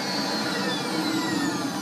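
An Electrolux model 302 vacuum cleaner runs after a motor repair, giving a steady, loud, close whine with an even high-pitched drone and no change over the short stretch. No one speaks.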